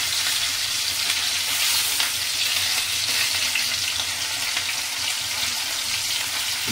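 Sliced bitter gourd (karela) frying in oil in a pan over a gas flame gives a loud, steady, close sizzle that runs unbroken throughout, with no voices over it.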